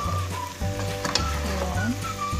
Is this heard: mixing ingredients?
yes